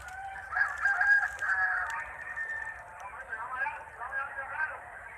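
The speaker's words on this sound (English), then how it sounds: "the occasional crow of a rooster" Roosters crow one after another amid the murmur of a crowd at a cockfight at a home, their calls rising over steady background voices.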